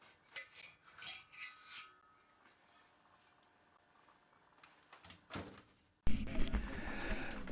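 An engine barrel being worked off the cylinder of an Enfield motorcycle, heard as scraping, rubbing metal sounds in short bursts, then a louder clattering shuffle near the end.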